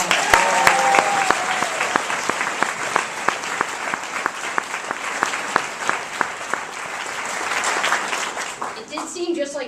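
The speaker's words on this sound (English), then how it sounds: "I think we owe him a great round of applause" A crowd gives sustained, dense applause for Justin Bachman at a tolerance fair speech, steady clapping filling the room for several seconds before tapering off near the end.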